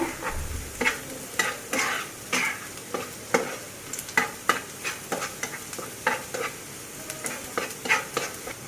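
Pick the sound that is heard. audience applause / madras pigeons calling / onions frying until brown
onions frying until brown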